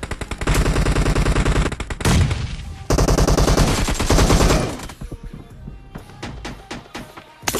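Gunfire in PUBG plays loud and close as rapid automatic bursts with brief pauses, then gives way to scattered single shots and clicks.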